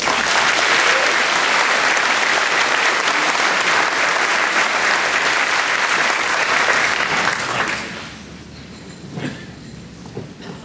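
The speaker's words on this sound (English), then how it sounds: "Let's give them a round of applause." Sustained applause from a commencement audience honoring graduating students at a Kirk Academy ceremony, dense and steady for about eight seconds before fading into scattered claps and light room noise.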